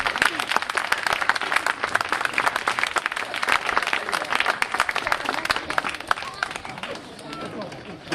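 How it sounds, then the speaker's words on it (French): At a scout celebration, an audience applauds an arriving guest speaker, an elderly professor, with brisk, crisp clapping that continues throughout and fades slightly at the end, mixed with crowd murmur and chatter. "On peut l'applaudir, il va arriver."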